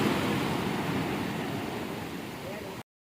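Sea waves surge against a rocky beach between Murudeswar and Udupi on the Karnataka coast, a steady broadband wash of surf that stays loud and close for nearly three seconds before cutting off abruptly.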